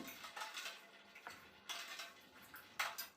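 A spoon stirs sugar syrup for malai khaja in a metal pan, making faint, intermittent scraping and clinking against the vessel in short bursts, close but quiet, with no talk.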